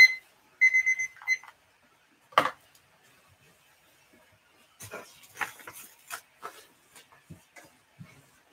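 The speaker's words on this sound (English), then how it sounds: "And there's the timer." Electronic timer alarm at a live auction gives a brief beeping burst at the start, followed by scattered knocks, clatter and faint handling noises in a quiet room.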